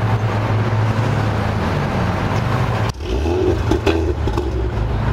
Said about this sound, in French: Ça a l'air bien violent aussi ça. Au niveau de l'échappement, évidemment, c'est pas stock.